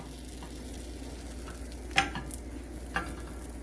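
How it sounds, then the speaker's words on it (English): Hot dog buns toasting in a hot pan give off a soft, steady sizzle with a few scraping or tapping sounds from a utensil, fairly quiet and with no talking. "we're going to toast the bun soon and fry the egg"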